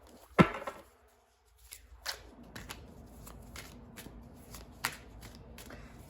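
A deck of tarot cards is shuffled by hand. A sharp riffle comes near the start, then a run of soft, close flicks and taps with quiet pauses, and no talking.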